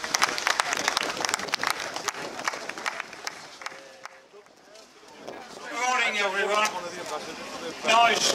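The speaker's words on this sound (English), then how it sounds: "can we have a round of applause for this young man's birthday?" Crowd applause at an outdoor memorial gathering for Duncan Edwards Day in Dudley, scattered claps rising and thinning out, followed by someone speaking and the clapping picking up again briefly.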